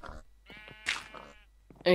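A sheep in the Minecraft video game bleats in short, buzzy calls, with a few rapid in-game sounds and a louder burst at the end, all close and clear.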